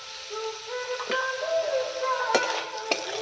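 Potatoes fry in a pan with a steady close sizzle while a utensil stirs them, scraping and knocking against the pan a few times, with no talking.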